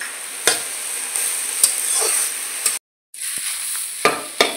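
Flaked fish and lote greens with chopped onion fry together in a pan, a bright continuous sizzle broken by regular spatula knocks against the pan and one brief moment of silence.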